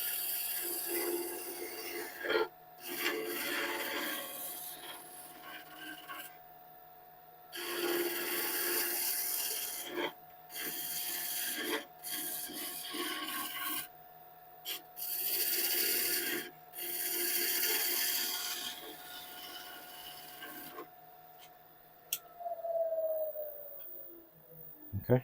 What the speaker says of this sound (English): lift up the handle until we start to cut, and then move across the surface